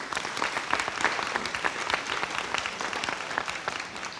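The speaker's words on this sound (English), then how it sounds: "let's give Mr. Okabe a big applause" An audience at a pitch contest applauds, a dense patter of many hands clapping steadily for several seconds without letting up.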